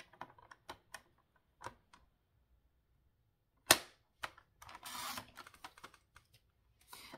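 Paper being cut for a simple Christmas pop-up card: sparse, close snips and crisp clicks spaced apart, one sharp snap, then a brief rustling swish of paper, with quiet gaps between.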